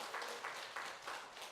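A church congregation applauds together in a Korean holiness church service, a steady wash of many hands clapping in a loose, pulsing rhythm, moderately faint and heard without speech.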